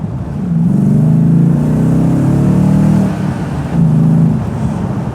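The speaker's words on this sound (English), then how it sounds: "That V8 gives it an almost muscle car-like feel. The sound is just pure grunt." A Morgan V8 supercar engine revs twice in deep, throaty swells, the first held for a couple of seconds and the second shorter, loud and close.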